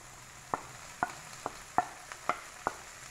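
Okra stir-frying in a pan with a faint sizzle underneath, punctuated by about seven sharp, evenly spaced taps and scrapes of a spoon against the pan.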